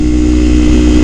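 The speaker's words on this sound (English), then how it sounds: "This thing wants to be revved. It wants to be revved hard." Kawasaki Ninja 300 motorcycle engine held at a steady, loud drone with a strong harmonic hum, sounding close and continuous with no voices over it.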